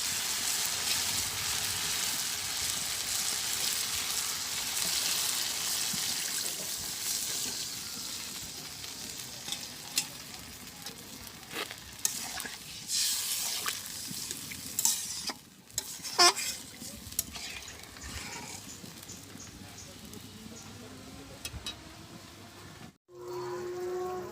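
Sautéed potatoes in a pan sizzle loudly and are stirred, then water goes in and the hiss breaks into bubbling, scrapes and knocks of the utensil against the pan, close up with no voices.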